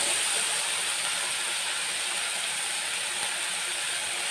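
A beaten egg poured into a hot pan with mountain spinach leaves gives a loud, steady, close sizzling hiss that stays even throughout, with no voices over it.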